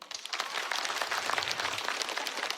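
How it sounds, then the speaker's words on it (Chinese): A stand-up comedy audience applauds steadily, with dense, even clapping that holds at the same level throughout and no voices on top. "鼓鼓掌，我听一下，有没有？"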